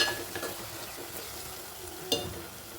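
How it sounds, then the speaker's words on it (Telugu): A spoon stirs a tomato and dry prawn curry in a pan, making soft scraping and light sizzling in short strokes, with a sharper clink near the end. "ఇలా అడగంటకుండా తిప్పుకోవాలి"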